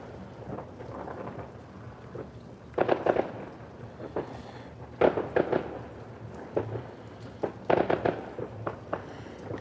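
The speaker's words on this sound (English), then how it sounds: "Definitely hear the fireworks" Fireworks going off at night for Victoria Day, heard as distant muffled booms and crackling bursts in irregular clusters over a quiet outdoor background.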